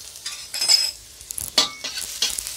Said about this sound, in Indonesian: panaskan panci, tuang minyak sedikit, kita goreng ayamnya dulu